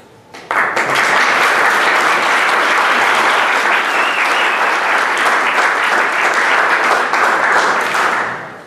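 An audience at a Vallejo SOUP community gathering bursts into loud, close applause that swells almost at once and holds steady for several seconds before tapering off.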